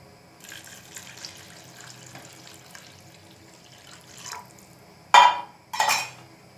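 Water poured into a pot of fried ingredients for a rice tagine, a faint splashing pour running for several seconds, followed by two short, louder bursts of liquid hitting the pan near the end.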